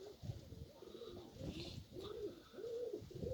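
Domestic pigeons coo softly in repeated low, rolling calls during molting season on a windy day, fairly quiet and with no talking.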